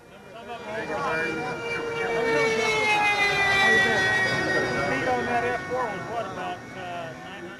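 A radio-controlled F4 Phantom model jet in flight, its turbine whine rising and falling in pitch as it passes overhead, growing louder toward the middle and fading after, with a voice talking over it.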